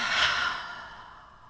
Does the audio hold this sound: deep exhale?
yes